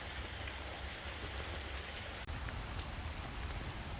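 Rain falling outside a garage, a steady dense hiss of drops on surfaces heard from indoors, continuous and moderately quiet with a brief dip partway through.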